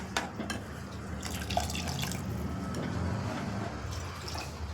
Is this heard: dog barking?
no